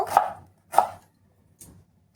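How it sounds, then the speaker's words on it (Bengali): Three sharp knife chops through tomato and ginger on a cutting board, close and distinct, spaced about two-thirds of a second apart, the last one softer. "এবারে এখানে টমেটোটা কেটে নেব। আদাটা কেটে নেব।"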